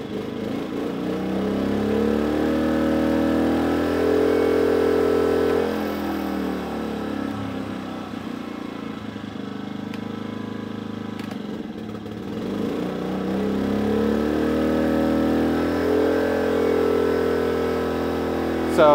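A Briggs and Stratton P2400 generator engine under a hard load gives a steady, loud mechanical drone that sags and then recovers in pitch and strength.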